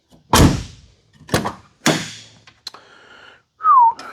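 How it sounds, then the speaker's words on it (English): Door of a Nissan 200SX S12 opening and closing: several loud, close thunks and latch clicks spaced about half a second apart, followed by a brief creak and a short squeal at the end. "Oh, the door opens so nicely."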